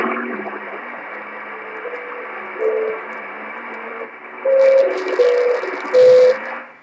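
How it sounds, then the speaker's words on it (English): JT65 amateur radio digital mode heard on a shortwave receiver near 10.136 MHz: steady single tones that step between pitches in short bursts over a constant hiss of band noise, growing louder toward the end. "That's JT65. It's a digital mode from amateur radio."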